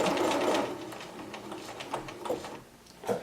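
Bernina sewing machine stitching a buttonhole, a steady mechanical whirr of the needle running continuously, loudest at the start and then continuing more softly with small bumps as the stitching shifts direction.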